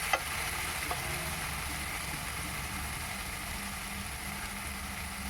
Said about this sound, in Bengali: টমেটোটাকে দিয়েও আবার ভালো করে নেড়ে চেড়ে দিচ্ছি, যাতে টমেটোর কাঁচা গন্ধটা চলে যায়